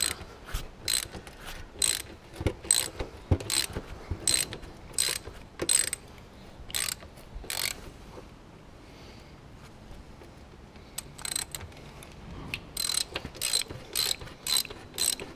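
Tight bolts being undone on a Kubota U17-3 mini excavator at 2700 hours, heard as rapid bursts of ratcheting clicks in repeated runs with a brief pause midway, close and fairly loud with no talk.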